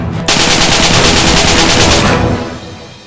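Rapid automatic gunfire rattles in one loud, dense burst for about two seconds, then fades out, as an intro effect for a cardboard AK105.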